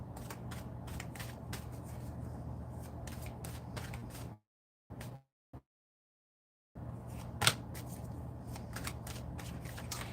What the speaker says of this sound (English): Let's get two more cards out here.